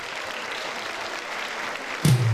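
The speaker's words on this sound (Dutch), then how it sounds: "geef hem een waanzinnig applaus" A crowd applauds a singer with a steady, soft wash of many clapping hands at a distance, cut by a louder low thump near the end.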